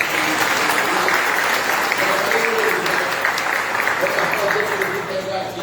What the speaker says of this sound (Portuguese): Então eu queria que você aplaudisse o Senhor pela vida dele.